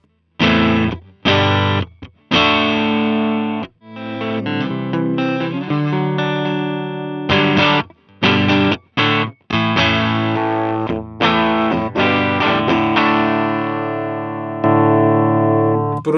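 An electric guitar played through the modern amplifier model of a Nux Amp Academy rings out in distorted chords and single notes, with sharp attacks, short pauses between phrases and long sustained final notes, loud and alone.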